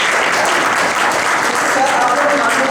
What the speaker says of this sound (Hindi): हाँ, इनके लिए एक एक्स्ट्रा ताली बजाएं।